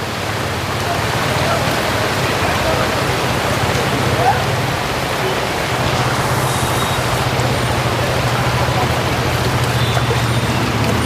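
A steady broadband rush of knee-deep floodwater pouring through a street near Alandi after heavy rain fills the whole clip, with a low rumble underneath and no pauses.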